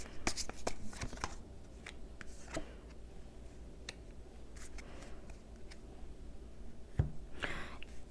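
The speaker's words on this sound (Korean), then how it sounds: "제가 조언 카드 조금만 더 뽑아볼게요." Tarot cards are shuffled and drawn at a table in a close, quiet setting, with crisp flicks and taps scattered across the clip and one sharper snap near the end.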